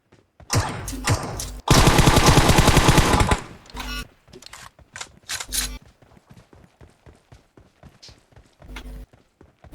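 Gunfire from an enemy shooting from behind in a video game: loud close shots and a sustained automatic burst of about two seconds, followed by a quieter run of scattered shots and footsteps-like taps.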